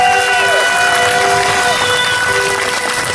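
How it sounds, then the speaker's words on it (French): Crowd cheering and applauding at an outdoor march of locked-out aluminum workers in Trois-Rivières, a dense steady roar with whistles and shouted tones throughout, loud and close. "Une bonne main d'applaudissements pour ces organisateurs-là."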